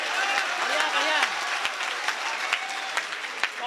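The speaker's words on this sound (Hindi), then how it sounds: "जोरदार तालियां बजा दीजिए।" An audience at a Hindi kavi sammelan poetry recital claps steadily with a dense patter, while a voice speaks and calls out over the applause.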